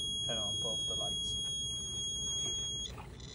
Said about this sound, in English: the red light and the buzzer will be turned on automatically